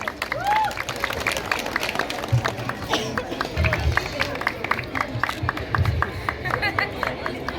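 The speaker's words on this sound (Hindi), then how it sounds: "जोरदार तालियां यार।" Crowd applause at a prize draw where a 20-gram silver coin is handed out, heard as scattered rapid clapping that rises and falls over several seconds while voices chatter in the background.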